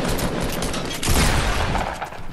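Video game gunfire rattling continuously in a dense, loud, crackling barrage, swelling into a heavier burst partway through with no pauses.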